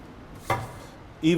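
A knife cuts through a blueberry oatmeal bake, giving one soft chop against the board followed by a second brief contact, close up and quiet.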